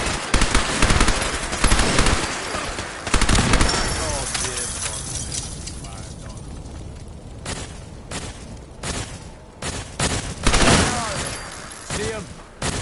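Gunfire in a firefight in Fallout 4's Nuka-World, loud rapid bursts of automatic fire and single shots in a close, chaotic exchange that thins into scattered cracks.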